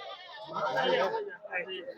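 A goat bleats at the Mullanpur Dakha goat market, a short, wavering nasal cry heard close, with people talking around it.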